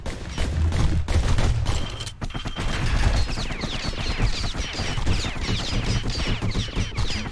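Twin slinger pistols in Bastion fire in rapid, dense volleys, loud and close, crackling shots overlapping almost continuously with a brief lull near the middle.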